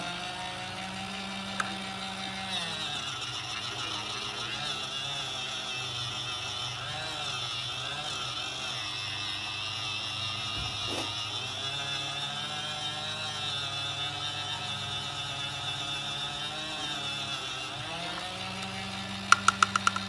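A makeup brush cleaning machine spins with a steady, continuous motorized whir while the brush is held against it by hand, the hum staying even and close throughout, with a few faint clicks near the end.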